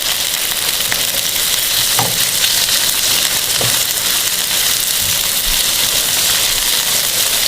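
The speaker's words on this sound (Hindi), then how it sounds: "चिकन डालने के बाद इसको मिक्स करेंगे" Finely chopped chicken fries in a pan with a steady, dense sizzle, close and loud, while occasional scrapes and knocks of a stirring utensil break through.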